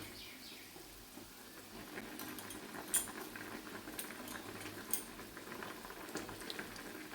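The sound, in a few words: fish curry broth boiling in a pot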